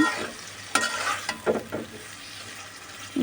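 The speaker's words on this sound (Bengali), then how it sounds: "এই মশলাটার সাথে এখন আমি এই ভুড়িগুলোকে ভালো করে মিশিয়ে নেব" Beef tripe is stirred with spices in a pan, bursts of scraping and stirring over a low sizzle, louder clatters spaced out across the clip.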